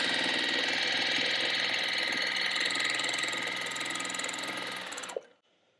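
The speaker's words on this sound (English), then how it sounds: "take it back to my sewing machine, and stitch all the way down" Sewing machine stitching down quilt binding runs in a fast, steady whir close by for about five seconds, then stops abruptly into near silence.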